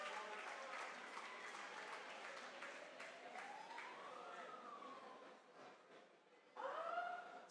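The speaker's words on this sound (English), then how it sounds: "Please applaud for Team MAI Robotics versus DIT Robotics." A crowd applauds robotics teams after a match at the Eurobot 2024 robot competition: steady, moderately distant clapping, joined by a siren-like rising and falling electronic tone and a louder burst near the end.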